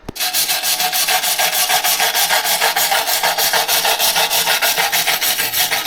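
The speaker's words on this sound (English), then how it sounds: "show you what it looks like underneath with the wire brush" A wire brush scrubs rapidly back and forth over welded metal on the rear subframe of a 1976 BMW 2002, making a steady, loud, rhythmic rasping that continues without a break from start to finish.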